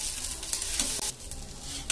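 Chowmein being stirred in a pan after tomato and green chilli sauce go in, a steady close sizzle with scraping spatula strokes running throughout, no voices.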